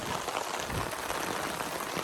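Dense, steady hiss of heavy rain pouring down and drumming on surfaces at Jhalshuka beel, a fishing wetland, with no voices.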